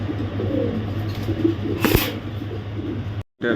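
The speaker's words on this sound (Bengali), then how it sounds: "রেড চেকার কবুতর একটা মাদি কবুতর" Red checker pigeons coo softly in a steady low murmur, with a brief rustle or flutter midway and a short cut near the end.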